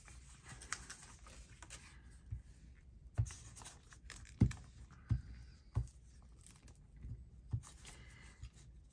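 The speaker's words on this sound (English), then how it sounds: "I'm going to cut them with my scissors." Scissors cut the corners of paper pockets for an Easter journal, giving faint, sparse snips and clicks spaced a second or so apart in a quiet room.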